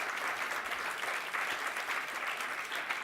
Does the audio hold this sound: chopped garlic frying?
no